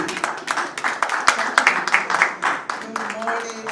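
An audience at an opening speech event claps briskly in uneven bursts, moderately close, with talking from the stage running underneath the clapping throughout.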